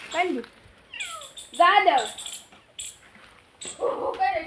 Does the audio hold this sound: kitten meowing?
yes